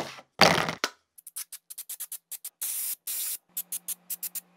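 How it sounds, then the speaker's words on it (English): Paint stripper sprayed from an aerosol can onto a Stanley hand plane during restoration: one long hissing burst, then a run of short, close spurts with brief gaps, and a few longer sprays. "So we're gonna spray it, let it sit for about 30 minutes to an hour."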